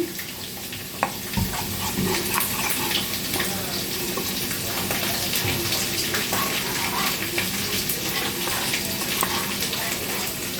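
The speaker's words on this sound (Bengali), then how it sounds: "দেখুন জল দিয়ে একটা পেস্ট তৈরি করছি।" Spice powder stirred with water into a paste during home cooking of a papaya or soybean-potato curry: a steady, fairly loud wash of running, sloshing water and stirring that carries on without a break.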